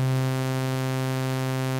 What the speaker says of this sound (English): I will now morph this waveform from being a sine wave to being a sawtooth waveform